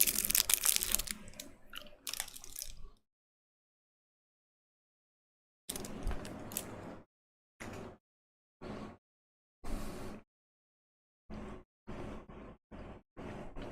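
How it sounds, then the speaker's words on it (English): A piece of candy crunched close to the mouth: loud crackling chews at first, then separate short bursts of crunching broken by silent gaps, intimate and dry with no talking. "Eating a piece of candy."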